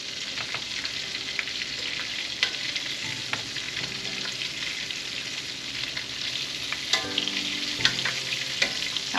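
Chicken nuggets fry in hot grease with a bright, steady crackling sizzle, close and continuous, with a few clinks and scrapes as pieces are moved near the end; no one speaks.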